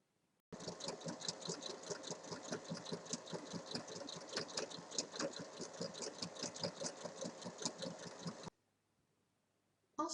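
A sewing machine runs in one continuous burst of about eight seconds as it stitches along three sides of fabric, with a fast, steady mechanical whir and needle rattle, close and clear, then stops abruptly into silence.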